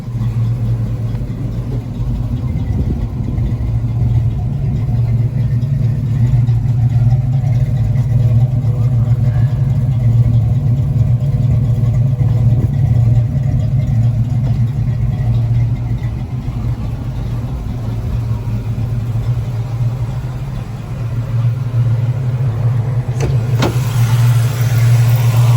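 A newly acquired race car sits idling in a smoky space, its engine a loud, steady low rumble that holds even throughout, with a small knock near the end.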